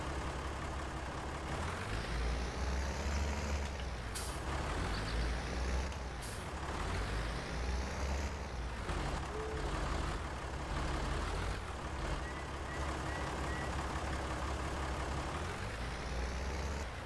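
A tractor engine in Farming Simulator 19, sounding rough as it repeatedly revs up and slows down, with loud droning swells rising and falling over a continuous low rumble and occasional sharp hissing bursts.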